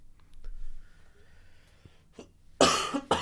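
Several harsh coughs burst out close and loud near the end, after a stretch of quiet room noise with faint thumps, from a man who is sick during a casual podcast recording.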